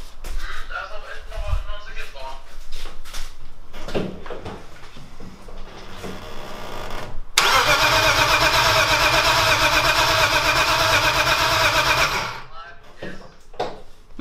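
A BMW turbo car engine fires up for the first time in a year after a stretch of talking and cranking, then runs loud and steady for several seconds before cutting off, with voices before and after.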